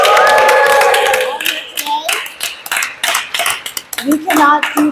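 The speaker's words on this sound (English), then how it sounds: "Let's give a round of applause for the coalition." Applause breaks out at a coalition advocacy day press event in New York, a burst of clapping from a crowd that fades quickly as a voice keeps speaking over it.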